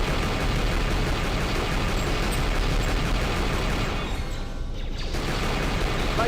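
Loud, dense, continuous booming and crackling of cannon fire in the video game KOTOR 2, a relentless barrage with a brief dip before resuming.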